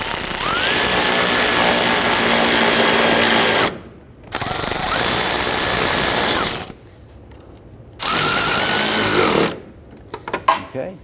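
A handheld power tool snugs headlight bolts on a 2011-2023 Dodge Charger, buzzing loudly and closely in three bursts of a few seconds each, separated by short pauses with faint handling clicks.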